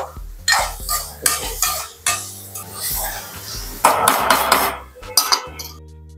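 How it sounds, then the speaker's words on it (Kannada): Turmeric being stirred into mutton kaima curry in a metal pot, a run of sharp spoon-on-pot clanks and scraping knocks, loud and close, with brief pauses between strokes. "ಈಗ ಅರಿಶಿನ ಹಾಕಿದೆ, ಸ್ವಲ್ಪ ಚೆಂದಾಗಿ ತಿರುಗಿಸಿ ಕೊಟ್ಟೆ."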